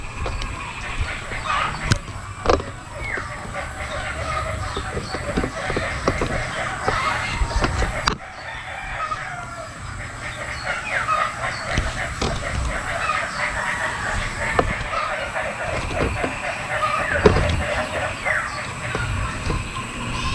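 A mother hen with her chicks in a rain-soaked backyard gives repeated clucks and soft calls against constant outdoor background noise, with occasional voices nearby.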